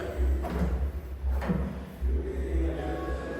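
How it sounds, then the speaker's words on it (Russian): A door lock clicks and rattles a few times, with short mechanical knocks over a low steady background hum. "Это вот такие замки на дверях"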